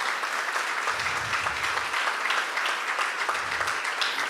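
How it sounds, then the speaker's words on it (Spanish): A church congregation applauds with sustained, dense clapping that carries on without a break, filling the room at an even level. "Dale ese aplauso al Señor esta mañana."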